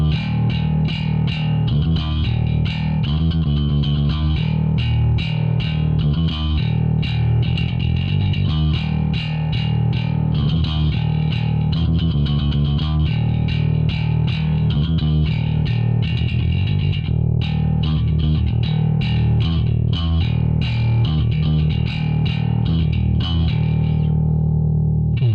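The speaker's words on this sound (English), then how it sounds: "yes, the mix is bass heavy on purpose. This is a bass demo." A custom metal bass guitar played through heavy distortion and effects, mixed deliberately bass-heavy, chugs loud and sustained with rhythmic riffing throughout, then cuts off at the end; no talking.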